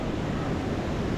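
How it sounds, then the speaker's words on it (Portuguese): Large waterfall at Cachoeira do Salto municipal park, a dense, steady roar of rushing water that fills the sound without a break, loud and close, with no voices. "Que cachoeira grande!"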